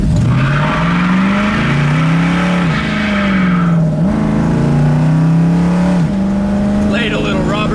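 A 1967 Ford Mustang coupe with a 289 engine accelerates hard, its engine note climbing through several gear changes as the tires squeal, loud and close from inside the car, with brief talk near the end.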